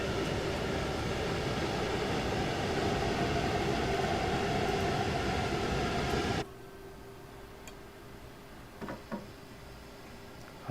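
A freight train in Train Sim World 2 on the Dresden–Riesa line rumbles past as a loud, steady broadband roar that cuts off abruptly midway, leaving a quieter cab hum with a few brief clicks.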